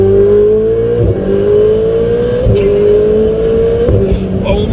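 Turbocharged engine of a 2017 Ferrari 488 Spider pulls hard under acceleration, a loud, steady rising roar with brief shift dips, heard close from inside the car.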